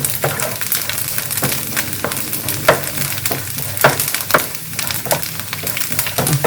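Small coconut pieces fry in hot oil in a pan, a dense continuous sizzle with frequent crisp stirring clicks and scrapes from a spatula, fairly loud and close, no speech.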